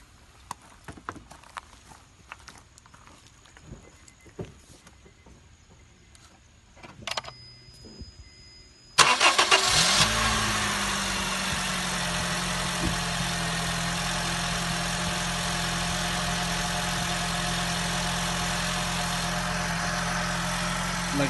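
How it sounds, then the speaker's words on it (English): A 2008 Honda Fit Sport with an ignition coil problem and excess engine vibration cranks and starts after several seconds of quiet workshop rustling, then settles into a steady, close idle hum that runs to the end. "now let's start the car"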